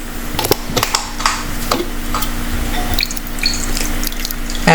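Water being poured and dripping into batter for enoki mushroom frying, a light splashing trickle with scattered drips and a faint steady hum underneath, close to the bowl.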